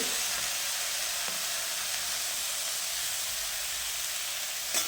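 Soy sauce added to a hot pan of Indo-Chinese Schezwan noodles sizzles in a steady, bright hiss up close, continuous throughout with a small clack near the end.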